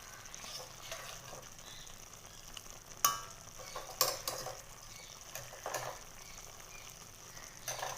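A spoon stirs chicken with masala in a sizzling pan, with soft continuous frying and a few sharp scrapes and taps against the metal, close by and without talk.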